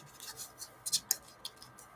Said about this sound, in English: one more little shuffle, and they say we're good to go